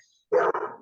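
A single short dog bark breaks the silence, fairly close and loud, with a brief second yelp-like tail right after and no talking over it.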